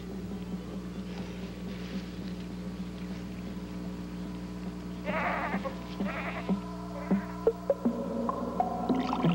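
Goats bleat in a short cluster of wavering calls over a steady low engine-like drone, followed by scattered knocks and clicks, in a 1982 new wave sci-fi short film.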